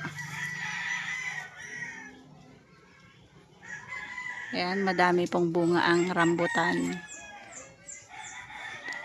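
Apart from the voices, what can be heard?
chickens clucking and rooster crowing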